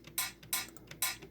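A hi-hat sample plays in music production software in a quick, steady pattern of crisp, bright ticks, four main hits with softer ones between, clean and close with no voices.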